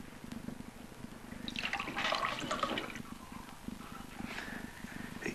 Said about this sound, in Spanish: Aquí le das al grifo y tú el agua que quieras.